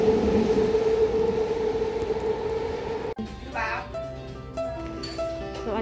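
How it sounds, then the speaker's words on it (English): Skytrain rolling past with a steady rumbling hum that cuts off abruptly midway, followed by a voice and nearby chatter in a busy outdoor setting. "Ayan na yung Skytrain na naman."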